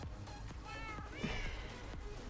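A Minecraft cat meows a few times in the game, short, clear mews heard over quiet background game sounds.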